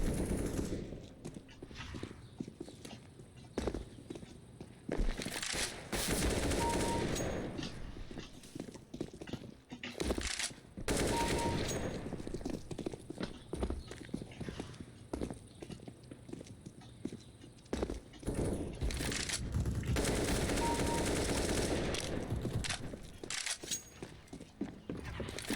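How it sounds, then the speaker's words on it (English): Sustained video game gunfire as a player comes under attack, with dense bursts of shots running through the whole stretch over busy game noise and occasional brief talk. "Just getting shot at."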